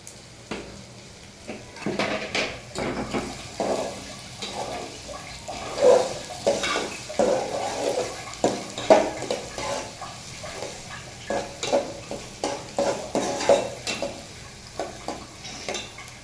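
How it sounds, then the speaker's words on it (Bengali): Moong dal lightly frying in a pan, soft sizzle under repeated scraping strokes of a spatula against the pan, close and moderately quiet, irregular stirring rhythm across the whole stretch. "মুগ ডালটাকে একটু হালকা এভাবে ভেজে নেব"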